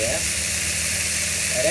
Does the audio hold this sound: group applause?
no